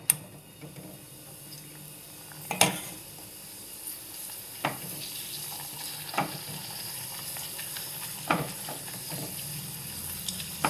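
Papad frying in hot oil for papad masala, with a steady close sizzle and crackle punctuated by several sharp pops and clinks spaced a couple of seconds apart, with no speech.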